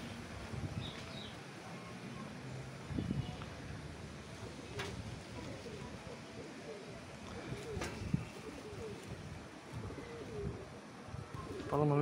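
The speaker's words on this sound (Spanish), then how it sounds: "Mira la paloma de nuevo con el palomo." Pigeons coo softly outdoors in Cuba, low repeated throaty calls under steady background noise with a few faint clicks and knocks.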